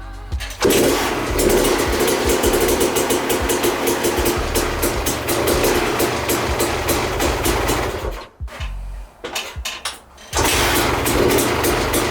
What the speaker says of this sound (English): So I'm gonna fill this up with coolant, oil, gas, and we'll see if she fires up